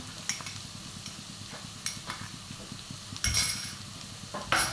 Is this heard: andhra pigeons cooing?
no